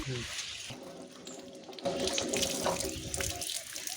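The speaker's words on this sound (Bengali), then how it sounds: "আচ্ছা ধুয়ে ফেল, আস্তে আস্তে ধুবো।" Running tap water splashes as a face wash is rinsed off, a steady close hiss that swells louder in the second half, with people talking over it.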